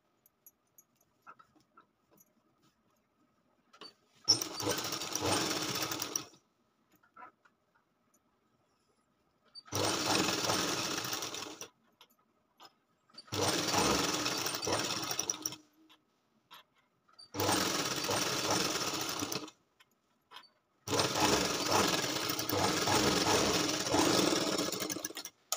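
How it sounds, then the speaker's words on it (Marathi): A sewing machine runs in five separate bursts, stitching a double seam around a katori blouse with lining, each run a few seconds long and separated by quiet pauses. "आता याच्यावर आपल्याला एक डबल शिलाई फिरून घ्यायची."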